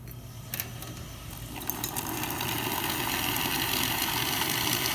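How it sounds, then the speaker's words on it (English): A steady mechanical pump hum and buzz from an Isomac E-61 espresso machine refilling its boiler builds and continues, preceded by a few short clicks, running loud and continuous without any talking. "You can hear the pump activating, refilling the water that had just been taken out of the boiler."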